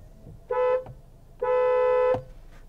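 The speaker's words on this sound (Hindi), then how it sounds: "And this is the horn sound." A Tata Harrier car horn sounds twice, a short beep followed by a longer honk, loud and close with no voices.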